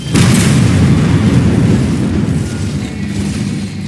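An airstrike explosion in Gears of War 4 opens with a loud, close blast, then a heavy rumble that slowly fades over a few seconds. No talking.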